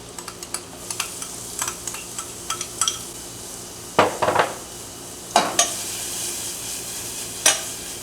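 Butter, garlic and chopped onion sautéing in a pan for a raisin sauce, with a steady sizzle beneath repeated clinks and scrapes of a utensil stirring against the pan.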